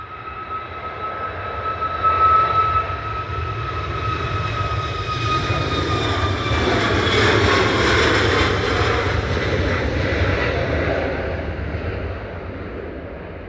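A Boeing 737 MAX 8 jet departs Manchester Airport, its loud, steady engine roar swelling and holding with a whining tone, then slowly fading as it climbs away.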